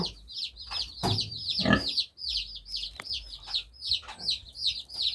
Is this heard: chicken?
yes